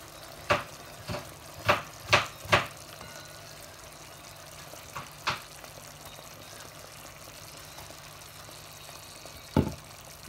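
Onions with green and red peppers go into a hot pan for a homemade calzone filling, then get stirred, giving a low steady sizzle broken by several sharp scraping clacks of the utensil against the pan.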